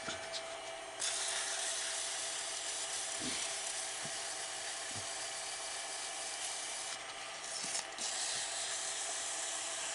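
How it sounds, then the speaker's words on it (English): Steady loud whirring hiss of a spinning lathe as an acrylic pen blank is sanded at 400 grit, a continuous rough friction noise with a few brief thumps. "I start sanding at 400 grit."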